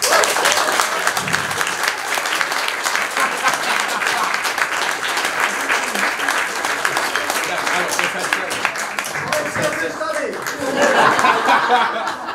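A studio talk-show audience applauds a guest, Viktor Novák, a hairdresser, with dense sustained clapping mixed with chuckles and laughter, swelling louder near the end.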